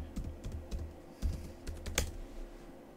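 Someone types a password on a computer keyboard while installing software on Linux, giving soft, irregular key clicks with a few louder taps, close and alone.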